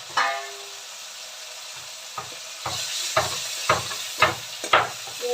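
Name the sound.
knocking from construction work next door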